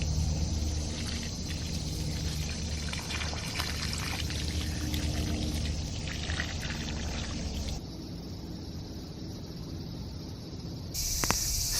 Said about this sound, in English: Maybe ginger needs a bit more water. So I'm going to water them now.